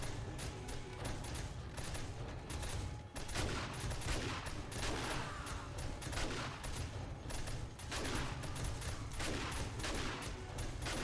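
Auto shotgun blasts in 7 Days to Die during a Wastelands horde night, firing in a rapid, near-continuous loud barrage with no talking over it.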